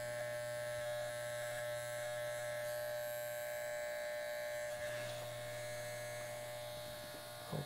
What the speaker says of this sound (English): we're going to turn the clipper around and shave to it